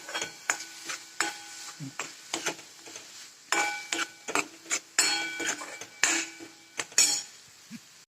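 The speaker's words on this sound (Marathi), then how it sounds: "दूध टाकून परत सर्व साहित्य टाकते चांगलं भाजून घ्यायचं" Coconut kheer mixture with milk and sweets being roasted in a pan, a utensil scraping and stirring in irregular clicks and knocks over a faint sizzle, fairly quiet and close.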